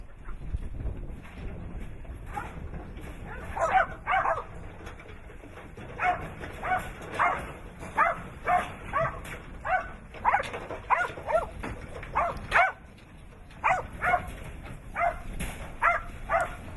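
Dogs bark repeatedly at a distance, short sharp yaps in irregular bursts over a steady outdoor background hum.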